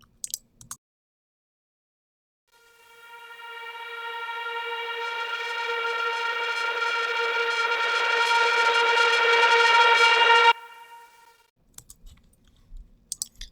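A synthesizer patch called Infinite Schism from the Ether instrument by Hammers and Waves swells in from silence into a bright, buzzing, saturated sustained tone over about eight seconds, then cuts off abruptly, with faint clicks at either end.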